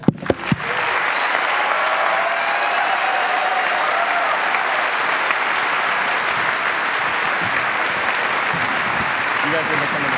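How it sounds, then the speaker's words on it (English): Sustained, loud applause from an audience at a NASA event announcing astronaut crews for new SpaceX rockets, a dense steady roar of clapping lasting throughout with a few sharp claps at the start. "Final applause before I turn it over to Mark Geyer."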